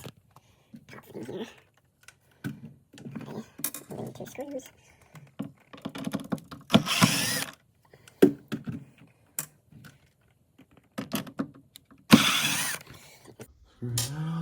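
Screws being backed out of a shelf inside a Samsung refrigerator, giving repeated close clicking and ratcheting bursts in short runs with pauses between, mixed with handling noise and brief talk.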